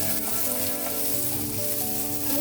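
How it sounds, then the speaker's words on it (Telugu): Onion and raw plantain pieces fry in a pan for an aritikaya fry, giving a loud, dense, continuous sizzle close up with faint stirring underneath. "ఉల్లిపాయ కొంచెం వేగిన తర్వాత నేను ఇవి అరటికాయ ముక్కలు యాడ్ చేస్తాను"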